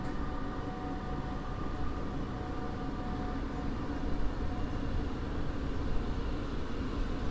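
Passenger train arriving at Warszawa Wschodnia station, a steady low rumble of rolling wheels and carriages close by, continuous and even without talk.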